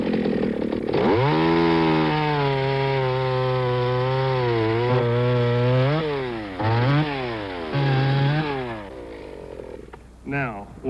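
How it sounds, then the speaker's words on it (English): Small Stihl chainsaw revving and cutting wood, a loud, buzzy engine whine that holds a steady pitch, dips and surges as it bites through, and then drops to idle near the end. "I'd like you to see what my little steel chainsaw can do."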